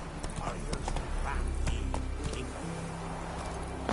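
Horse hooves clip-clop at a steady walking rhythm in The Witcher 3: Wild Hunt, close and fairly quiet over a low rumbling background.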